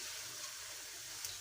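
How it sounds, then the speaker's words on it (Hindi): Water from the chickpea soaking is poured into a pot of chana pulao, producing a steady broadband rushing pour that lasts the whole moment at moderate loudness, with no talking over it. "चलो इसमें हम पानी ऐड करते हैं।"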